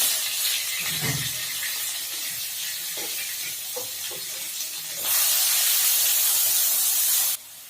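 Garlic and onion frying in refined oil for a makhana curry, a loud continuous hissing sizzle with a few spatters, swelling stronger near the end before dropping off abruptly.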